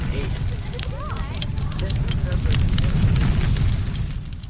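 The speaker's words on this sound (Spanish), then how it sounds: "ardía una fogata grande" A large bonfire burns near a village center, a dense roaring crackle with sharp pops throughout, while a voice narrates over it.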